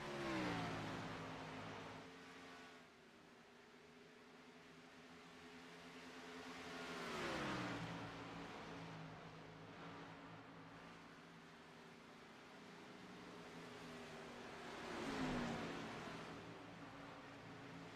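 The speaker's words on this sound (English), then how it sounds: "He continues to make his way around Texas Motor Speedway" Race cars lapping the 1.46-mile Texas Motor Speedway oval at the Badass Welder 200, engines swelling loudly as they pass about every seven seconds and fading to a steady distant drone in between, with no talk.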